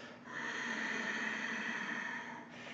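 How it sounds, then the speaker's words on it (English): Ujjayi ocean breath, a yoga breathing technique, produces a steady, soft, hissing breath lasting a couple of seconds, close and quiet with no talking. "I also talk about using a breath called the Ujjayi breath, or an ocean breath, a yoga breathing technique"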